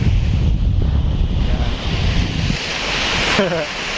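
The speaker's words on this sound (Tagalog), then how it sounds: "nakita po namin itong dagat" Sea waves wash ashore at a quiet beach in San Jose, Camarines Sur, with a steady roar of surf and heavy wind buffeting the microphone throughout.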